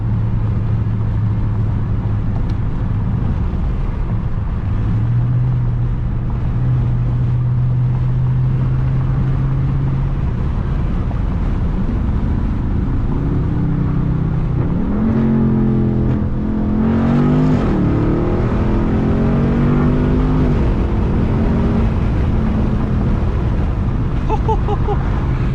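A 2021 Dodge Charger Scat Pack Widebody engine revs loudly and close, its deep exhaust note rising and falling through several pulls, with wind noise throughout and someone talking over it.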